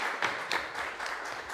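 An audience applauding at a talk session, a continuous wash of clapping heard fairly faint and at a distance, with no voices over it.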